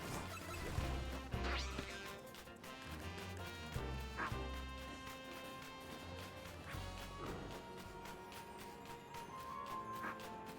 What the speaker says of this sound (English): Momo, can you stop barking at me?